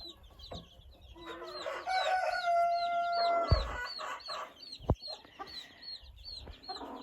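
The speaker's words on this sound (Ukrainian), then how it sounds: "Отакі у нас мамки є." Hens cluck and chirp busily nearby, with high peeping chicks scattered throughout and a few louder thumps and clatters.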